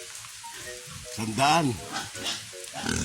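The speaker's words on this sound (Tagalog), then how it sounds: "Papalakadin natin hanggang sa Pede Road ang ating mga alagang baboy." Pigs grunting and squealing while being walked to market, short bursts rising to a loud squeal mid-clip, with a voice speaking briefly alongside.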